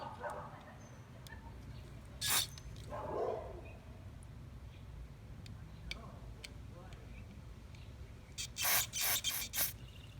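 A few short, sharp bursts of aerosol spray hiss out, cleaning a carburetor part from a Toro mower, one early and a quick cluster near the end, between quiet clicks and handling noises.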